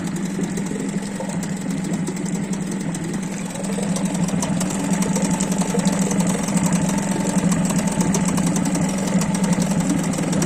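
A Hidea 6 two-stroke outboard motor runs at a low, quiet idle: a steady mid-pitched hum with light knocking vibration, close by and slightly louder after a few seconds.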